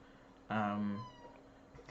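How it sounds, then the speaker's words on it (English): A cat gives one short, clear meow close by in a quiet room, and a faint sound follows a moment later. "if you could hear a little meow there"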